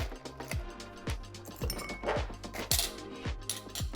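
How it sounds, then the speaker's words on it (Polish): Two ice cubes clink into a glass holding 25 ml of whisky and 50 ml of cola, giving a run of sharp, close glassy knocks and chimes against a steady low background hum. "Dodaję dwie kostki lodu."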